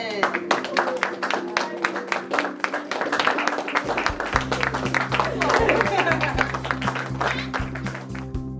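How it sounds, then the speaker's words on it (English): Students at Memphis Street Academy clap their hands to welcome guest Tommy Davidson, a brisk run of sharp, rhythmic claps close by, mixed with voices and sustained tones. "clap your hands, and welcome Mr. Tommy Davidson"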